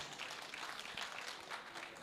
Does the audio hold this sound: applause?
yes